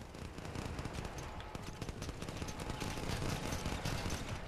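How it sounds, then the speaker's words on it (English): Continuous gunfire in the video game Crackdown, dense rapid bursts of shots layered with explosions and engine rumble, steady and loud throughout with no talk. "Somebody's shooting at me like a douche."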